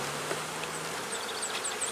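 Honey bees buzzing close around heavy honey frames lifted from a hive, a dense steady drone with individual insects whining past, no voices.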